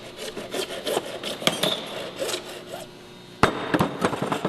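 Mock-up tubing pieces are cut for radiator hose fabrication with rhythmic rasping saw strokes, close and fairly loud, a brief pause, then a sharp clack and more rough cutting strokes.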